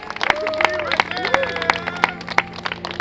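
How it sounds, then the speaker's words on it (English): Applause for a departing contestant, Alyssa, on a reality competition show: scattered sharp claps over a busy crowd with cheering and overlapping voices. "Give a round of applause to Alyssa"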